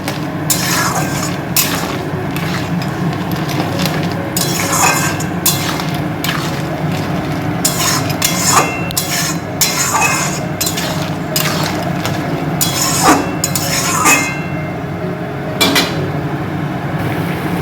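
Crab curry with chili powder and mustard paste stirred in a pan, a spoon scraping and knocking against the metal in irregular clattering strokes over a low wet simmer, close and alone.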